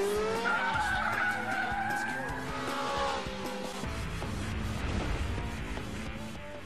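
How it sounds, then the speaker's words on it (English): A Mitsubishi Evo 8 with permanent four-wheel drive skidding through a slalom: loud tire squeal sweeping in pitch over the engine's roar, then fading into a rumbling engine and gravelly tire noise, close up and continuous. "Even Kazunori in the awesome Mitsubishi Evo 8 with permanent four-wheel drive finds a slalom can catch him out."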